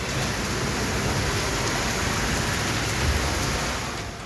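Heavy rain lashes down across a Rajasthan district, a dense, unbroken roar of water with wind pushing through it, loud and steady for a few seconds before easing slightly at the end.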